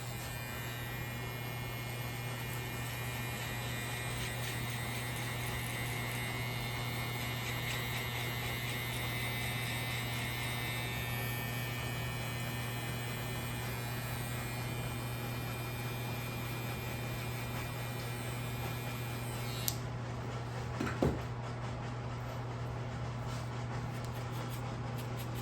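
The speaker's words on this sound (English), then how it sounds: "I'm just going to clean it up with the trimmer" An electric hair trimmer cleans up a low fade haircut with a steady, close buzz and hum that runs without a break. It drops off briefly near the end, followed by a couple of faint knocks.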